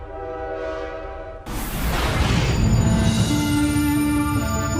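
China-Europe freight train in Duisburg, with a sustained tonal horn blast followed by a loud, continuous rumble of rolling stock and further horn tones, close and dominant throughout.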